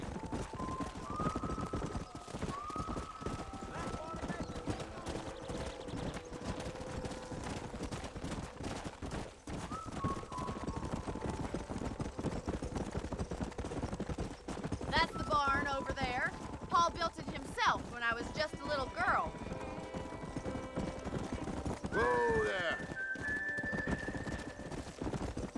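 A horse gallops in the Red Dead Redemption video game, its clip-clop hooves drumming rapidly under a continuous game soundtrack, with a neigh and short bursts of distant gunfire partway through.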